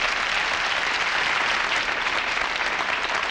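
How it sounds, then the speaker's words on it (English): A television variety show studio audience applauds, a continuous wash of clapping that holds steady and full from start to finish. "Would you all applaud, please?"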